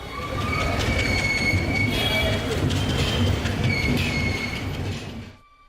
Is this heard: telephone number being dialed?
no